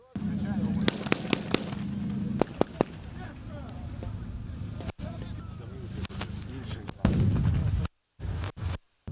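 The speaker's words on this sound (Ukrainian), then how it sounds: "Над головами військових летять бойові патрони. Поряд рвуться снаряди." Live rounds and exploding shells on a military training battlefield with dummies and simulated wounded: sharp bangs and cracks burst over a constant rumbling din, with several sudden loud blasts toward the end.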